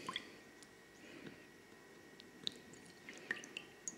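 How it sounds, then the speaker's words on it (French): A silver object is rinsed in a small pot of water, giving faint, close little drips, squishes and splashes scattered unevenly over a quiet background. "Alors je rince dans le petit pot."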